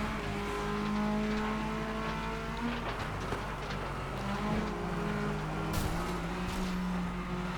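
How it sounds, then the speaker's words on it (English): Race cars in the video game FlatOut Ultimate Carnage, a constant loud engine roar with shifting revs, grinding scrapes and brief sharp impact crunches as cars collide, with no speech. "Jill Richards hit a car there, but I hit it as well."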